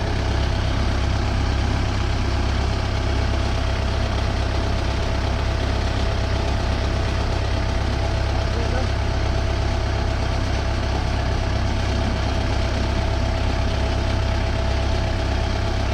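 A tractor engine idles steadily with a low, continuous rumble and faint knocking, unbroken from start to finish with no voices.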